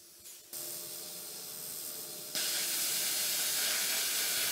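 A plasma cutter slices through 1/8 inch steel plate at 30 amps, a steady hiss of air and arc that starts, then jumps louder and brighter and holds constant, close by with no voices.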